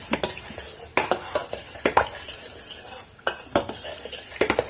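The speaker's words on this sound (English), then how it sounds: "I'm going to stir this up." A spoon stirring chia seed pudding in a bowl, with clinks and scrapes against the dish repeating in irregular strokes, close and fairly loud with no talking.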